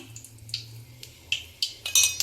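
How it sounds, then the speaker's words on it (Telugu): Chickpea vada batter being stirred in a bowl, a close sequence of light metallic clinks and scrapes of a spoon against the bowl, irregular and quiet, with no talking. "ఇప్పుడైతే ఒకసారి కలుపుదాం మనం దీన్ని అయితే మంచిగా కలుపుదాం"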